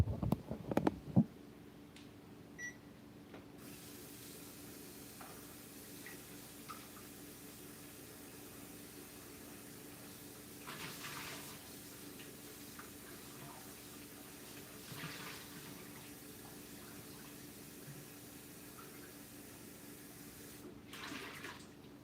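Water runs in a sink while a pot with food stuck on it is washed, a faint, steady stream after a brief clatter at the start, with occasional swells in the flow.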